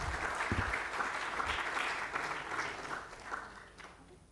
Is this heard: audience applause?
yes